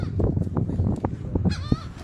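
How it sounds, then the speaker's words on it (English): Geese honking close by in a busy cluster of overlapping calls, with brief outdoor voices mixed in. "I think the geese want to talk on the phone"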